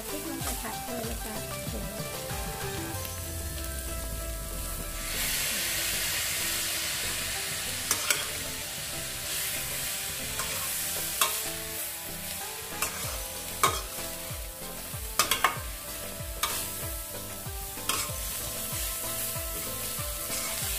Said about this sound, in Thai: เราลงไปผัดเลยนะคะผัดให้ทั่วเลยค่ะ แล้วก็ใส่พริกลงไปผัดเลยนะคะ